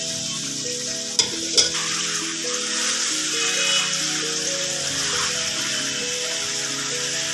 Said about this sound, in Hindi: अब हम इसमें प्याज तड़प रहे हैं